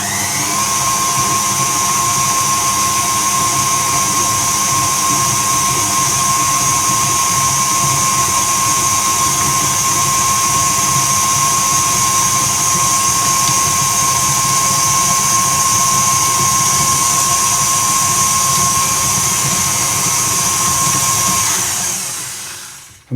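An electric mixer whisks frangipane batter with corn flour and egg, a loud, steady, high-pitched whir running without pause for over twenty seconds, then stopping abruptly.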